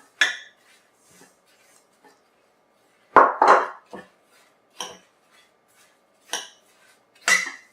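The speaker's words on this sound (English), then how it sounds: "I'll take my 4 cups of apples here, mix in the sugar here" Apples are tossed with sugar in a bowl for apple strudel, heard as a series of separate close clinks and scrapes of utensil on bowl, with quiet gaps between the strokes.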